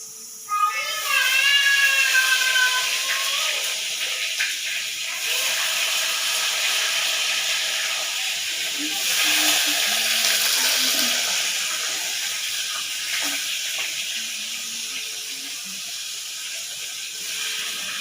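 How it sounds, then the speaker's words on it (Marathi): Paneer slices frying in oil at home, a steady loud hiss and sizzle running throughout, with a voice and other people talking over it. "पनीरचे काप केले होते, काही आता तळून घेत आहे बघा"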